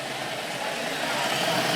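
Motorcycle engines rumble and rev steadily as they pull away from a cars and coffee meet in Naples, Florida, a continuous mechanical drone that swells slightly toward the end.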